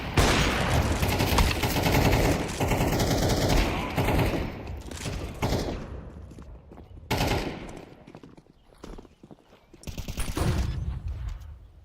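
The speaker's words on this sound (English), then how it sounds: "His position given away as he just keeps shooting back and forth." Rapid bursts of gunfire in Counter-Strike during a university esports playoff match, loud and near, with dense back-and-forth shooting fading into sparser shots and a final flurry.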